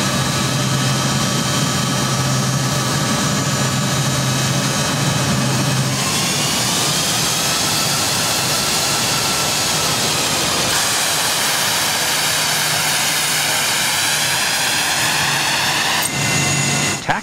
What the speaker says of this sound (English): it was time for the Air Force to start up the engines